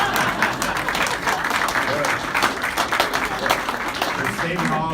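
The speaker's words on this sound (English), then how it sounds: "We're saving all the applause for you." Audience applauds at a formal diplomatic event honouring a former mayor of Cape Town, a steady wash of clapping holding throughout, with voices mixed in beneath it.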